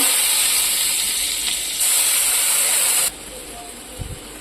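Water is poured into a hot pan holding amchur and green chillies, setting off a loud, steady sizzling hiss that swells briefly and then drops to a quieter simmer, close up.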